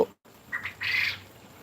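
A couple of short, sharp squawks from caged birds at a farm at night, ring out close by, a brief harsh call followed by a louder one.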